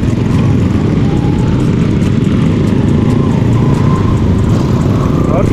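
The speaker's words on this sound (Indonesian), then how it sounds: "Banyak motor tebal ni." Loud motorcycles with thick, deep exhausts rumble past continuously on a busy road, a dense, heavy engine roar that fills the whole stretch without a break.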